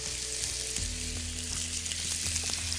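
Chicken pieces sizzle steadily in hot oil, a dense crackling hiss with a few soft knocks and clatters as the pieces go in, close and continuous throughout without any speech.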